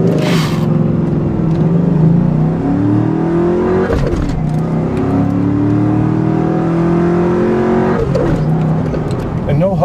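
A 2001 Ford Mustang Bullitt muscle car accelerates hard in a straight line, its engine roaring loud and close with rising revs that drop at each gear shift and climb again.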